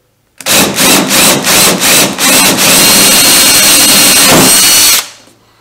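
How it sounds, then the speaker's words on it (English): A power drill with a half-inch all-purpose bit bores into a canoe hull, loud and close, starting with several short pulsed bursts before settling into one steady grinding run that cuts off abruptly. "First time you do this, drilling into your canoe,"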